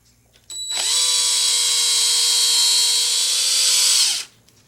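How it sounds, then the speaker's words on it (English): A pen turning on a lathe is rounded over with 400 grit sandpaper, giving a steady high whine that starts abruptly, holds for about three and a half seconds, then winds down, close and loud. "So I'm just going to round it over. By the way, this is 400 grit sandpaper."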